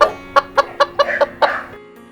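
A hen clucks in a quick series of short, sharp notes, about six in a row, close and loud, ending in a drawn-out cluck.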